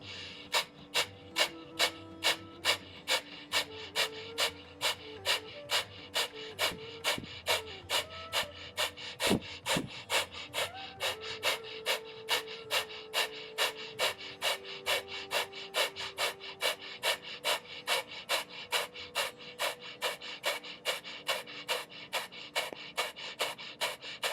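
Rapid, forceful breath-of-fire yoga breathing pushes out sharp, evenly spaced exhales about twice a second for the whole stretch, close and steady over soft sustained background music.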